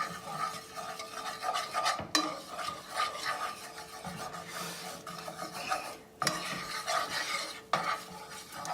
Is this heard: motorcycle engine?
no